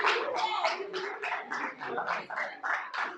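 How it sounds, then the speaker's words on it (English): Audience at a book giveaway for university students claps in a steady run of sharp bursts, with voices mixed in throughout. "Please clap for this one."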